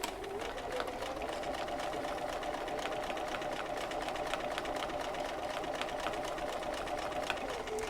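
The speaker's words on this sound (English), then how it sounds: "we're just going to start stitching nice and steadily down this first side" A sewing machine stitches a fabric gusset at an even, steady pace, a continuous fast mechanical whir close by with no pauses and no talking.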